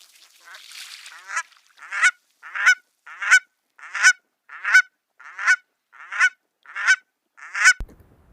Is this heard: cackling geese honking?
yes